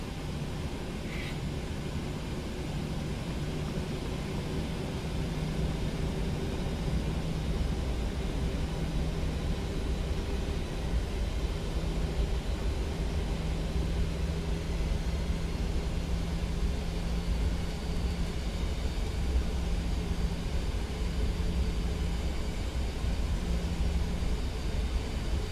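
A PMDG 737 NGX airliner taxis at Denver in the Prepar3D flight simulator, its engines giving a steady, unbroken droning rumble with a faint hum throughout, no voices over it.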